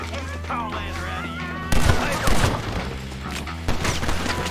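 Gunfire from the video game Red Dead Redemption in a mine, a couple of sharp booming shots over game music, with someone talking.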